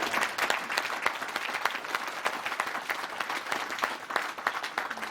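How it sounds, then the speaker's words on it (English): An audience at a sheriff's office graduation ceremony breaks into continuous applause, dense and even, with no voices over the clapping. "we can clap for her"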